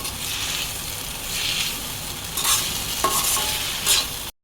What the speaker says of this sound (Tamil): இப்போ ஸ்லோ ஃப்ளேமில் வச்சு சிக்கன் எல்லாத்தையும் குக் பண்ணிப்போம்